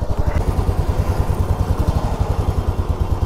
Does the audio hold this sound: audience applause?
no